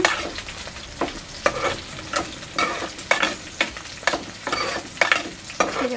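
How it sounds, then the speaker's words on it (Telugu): Green chillies fry in a hot pan with a steady sizzle, punctuated by regular scraping and clinking strokes as they are stirred, close and fairly loud with no talking. "దీంట్లోనే పచ్చిమిరపకాయలు అయితే వేసుకుంటున్నాను ఇవి కూడా మంచిగా ఫ్రై అవ్వాలన్నమాట"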